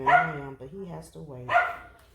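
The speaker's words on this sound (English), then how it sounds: "Excuse my dog," A pet dog barks indoors in a couple of short bursts near the start and again partway through, heard under someone talking steadily as he works on a craft project.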